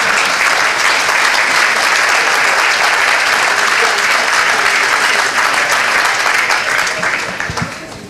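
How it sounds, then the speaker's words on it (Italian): Dense, sustained applause from a lecture audience at an Italian talk by Salvatore Settis, loud and steady for several seconds before thinning and fading at the end. "Avete applaudito la signora Crespi e Gregorio XIII."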